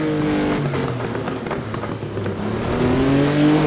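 A historic racing car engine revs hard through its range at the Pau Grand Prix street circuit in Assetto Corsa, loud and close, its pitch climbing and dropping with each gear, with faint other cars behind it.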